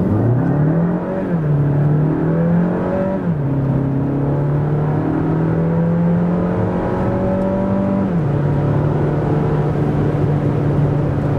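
A 2025 Jeep Renegade with a 1.5-litre 130 hp petrol engine accelerates hard from standstill, its revs climbing steadily through several gear changes with brief dips between, heard loud and close from inside the car.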